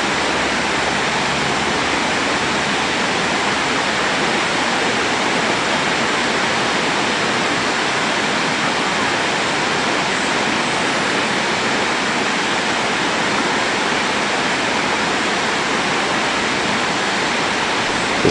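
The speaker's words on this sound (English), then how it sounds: "the Corby Castle waterfall cascades back down the steps and returns its water back into the River Eden" Corby Castle waterfall cascading down stone steps into the River Eden, a steady, dense rushing roar of falling water that holds constant and loud throughout, with no voices.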